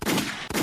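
Two sharp, loud gunshot sound effects fire in quick succession about half a second apart, each a broad blast with a short ringing tail, alone with no talk.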